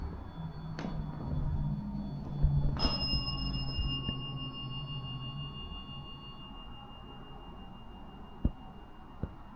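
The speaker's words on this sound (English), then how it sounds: "And at the same time, the bell went off." Electronic bell or chime sounding two sharp rings with lingering tonal tails, followed by fainter clicks in a quiet room.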